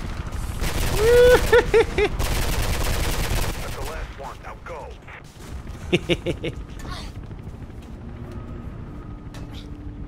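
Loud gunfire bursts in Mirror's Edge, the first-person parkour game on PC, crackling in dense volleys early on before giving way to scattered shots and a short spoken line over the action.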